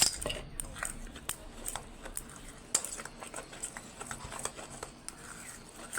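Semolina mango cake batter stirred in a bowl, with a spoon scraping and tapping against the sides in quick, uneven clinks and patters, heard up close and without speech.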